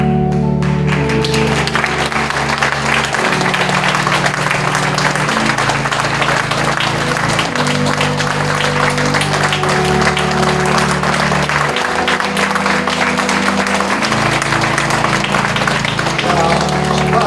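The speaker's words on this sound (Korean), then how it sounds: "우리 더 크게 박수 한번 주세요." A church congregation applauds during a pastor's installation thanksgiving service as flowers are presented, a sustained, loud wash of clapping over organ-like sustained music tones and some voices.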